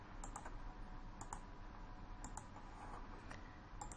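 Quiet keystrokes as C code is typed on a computer keyboard, arriving in short clusters of clicks spread evenly across the stretch, with no talking.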